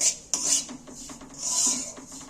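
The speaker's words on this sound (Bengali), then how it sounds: "গ্যাসের ফ্লেম কমিয়ে দিয়ে আস্তে আস্তে এইভাবে নেড়ে সুজিটাকে ভেজে নিতে হবে" Semolina being stirred and dry-fried in a pan over low gas flame, a soft raspy scraping of spoon through grains, rising and falling in slow strokes with faint clinks against the pan.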